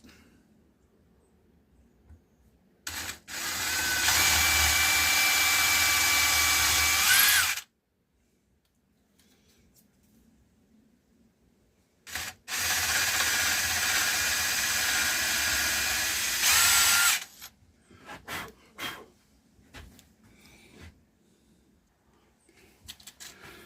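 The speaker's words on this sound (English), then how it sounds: "I've got a 5mm drill bit." A power drill with a 5mm bit whirs in two sustained bursts of several seconds each, drilling holes in elm wood, separated by a pause, with faint clatter and handling noise between runs.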